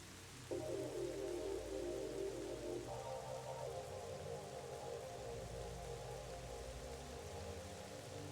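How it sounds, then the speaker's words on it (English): Video game rain in The Legend of Zelda: Twilight Princess: steady hiss with a soft patter throughout, under a low, continuous tonal drone that shifts pitch once partway through. "That's raining."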